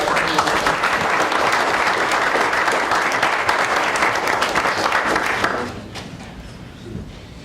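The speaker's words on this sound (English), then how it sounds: "One more round of applause" Loud, sustained applause from a large crowd at a school board of trustees meeting, steady for several seconds before thinning out and fading to a few scattered claps.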